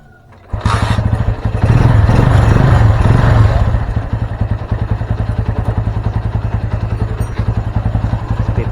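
A Honda Mega Pro Primus motorcycle, running with its battery removed, starts with a burst of cranking and then settles into a loud, steady, rapidly pulsing idle close by.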